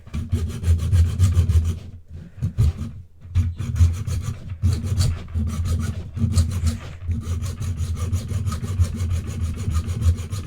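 Close, loud rasping of a file scraping plastic and throwing off fine dust, in long continuous strokes with a few brief pauses.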